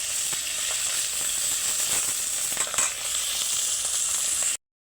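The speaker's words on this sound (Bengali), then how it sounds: "দেখো ভোলা মাছগুলো ভাজা হয়ে গেছে" Bhola fish fries in oil in a pan, a bright, dense sizzle heard up close with light crackles and a few stirring clicks before stopping abruptly.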